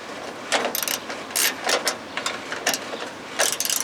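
A hand wrench snugs a bracket bolt on a 3-inch LED pod ditch light mount, giving bursts of quick ratcheting clicks in several short runs with brief pauses, close and moderately loud.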